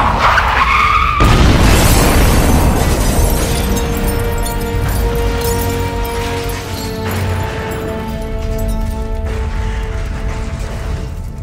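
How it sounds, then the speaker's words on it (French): A car skids hard to a stop in a dramatized scene, a loud sustained tire screech with rumbling and mechanical clatter that fades into a lingering ringing tone, with no talk over it. "J'arrête la voiture. Ça va secouer."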